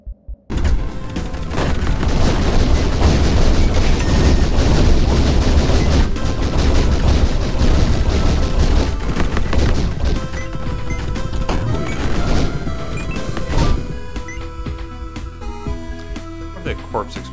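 Dead Estate video game combat: dense crashing explosions and rapid gunfire pound continuously and loudly for most of the stretch, thinning toward the end, with a voice talking over the action.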